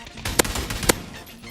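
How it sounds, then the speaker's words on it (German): Two sharp, close gunshots about half a second apart, each a hard crack over a busy rumbling background that fades after the second shot. "Hat man auf die geschossen?"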